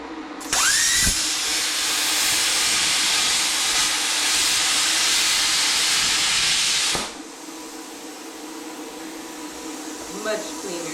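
A Bestarc BTC800DP 9th Gen plasma cutter cuts directly into a metal piece with a loud, steady hiss that starts with a sharp onset and runs for about six seconds before cutting off, leaving quieter background noise.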